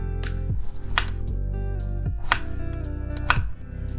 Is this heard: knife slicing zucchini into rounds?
yes